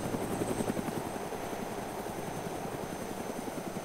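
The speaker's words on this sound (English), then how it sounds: "I hear the chopper." Helicopter in a video game flying nearby, a steady loud rotor chop with a pulsing rhythm that holds throughout without talk.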